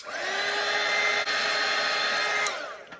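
A hair dryer blows steadily on a watercolour painting of a cartoon reindeer, a loud close whirring hum that holds even and then winds down at the end, with no talking.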